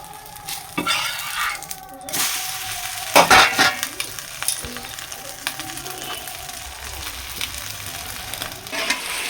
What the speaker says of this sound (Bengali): তার জন্য ভেজে নিচ্ছি ডিম টোস্ট